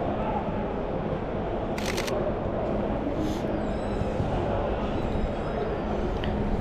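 Camera shutter firing test shots on a camera fitted with a 200-600mm lens, with a couple of short bursts of clicks standing out over a steady background hum.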